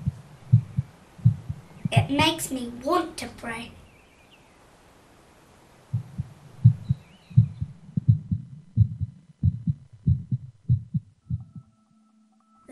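Heartbeat sound effect with steady paired thumps, loud and close, pausing briefly while a voice speaks, then resuming in a regular rhythm.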